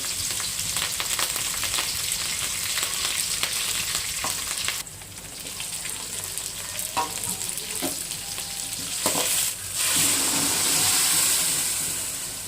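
Green chillies, curry leaves and chopped tomatoes hiss and crackle in a pan for a village-style chicken curry, a close, loud sizzle with stirring scrapes, briefly dipping before flaring up again.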